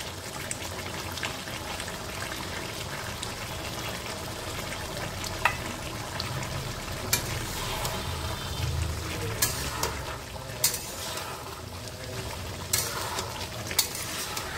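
A mixed vegetable vegetarian curry sizzles and bubbles in a pan while being stirred, a soft continuous fry broken by sharp scraping clicks of the spoon at irregular intervals, with no voices.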